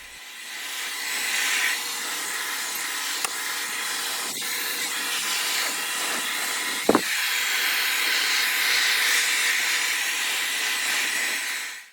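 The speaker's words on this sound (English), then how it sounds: "next I'm going to blow dry it. Blow dry it all the way through." A blow dryer blasts a steady broadband hiss while drying hair, loud and continuous with a few brief bumps and clicks. No one talks, and the airflow cuts off abruptly at the end.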